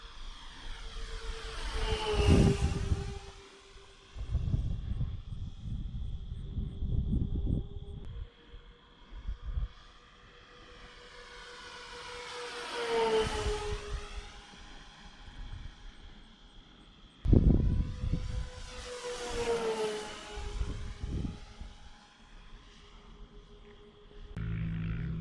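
A twin-motor RC boat with Tiger F90 1950 kv motors running at half throttle makes three passes, its electric whine rising and falling as it comes near and moves away, with water wash underneath.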